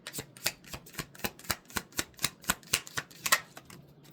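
A deck of cards being shuffled, a quick regular run of about fifteen crisp snapping clicks close by, with quiet between each riffle.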